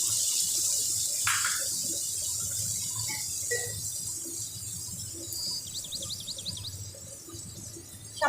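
Water splashing into a pan of soaked turmeric and chili powder spice paste for a katla fish curry with poppy-like parash seeds, a steady faint running-water wash with small clinks, no voices.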